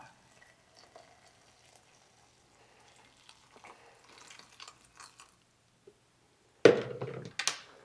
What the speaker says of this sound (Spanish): Son tan delicadas las flores que en cuanto echas el agua hirviendo pierden su, su color. Y ahora ya echar el agua.